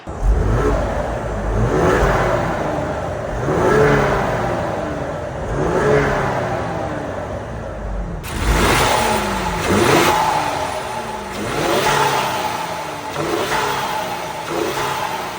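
A 2025 Ford Explorer ST's engine revs repeatedly through a quad exhaust in a steady series of roaring bursts, rising and falling, with a deep exhaust note and no voices.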